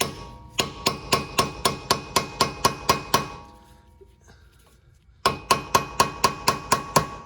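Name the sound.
hammer tapping screwdriver on rotor screw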